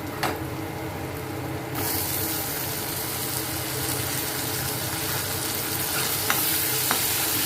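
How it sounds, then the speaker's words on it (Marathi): Chopped onion added to hot oil with asafoetida hisses into a steady, close sizzle of frying that runs throughout, with a few sharp spatter pops and scraping stirs along the way, and no voices. "हिंग टाकून घेतल्यावर कांदा टाकून घ्यायचा"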